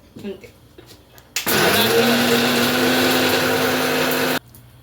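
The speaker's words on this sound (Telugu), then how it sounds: "ఇంత పెద్ద జగ్గులో ఇలా మిక్సీ పడుతున్నామని" A mixer grinder blending masala in a large jar whirs loudly at high speed for about three seconds, starting abruptly and cutting off sharply, with faint sounds before and after.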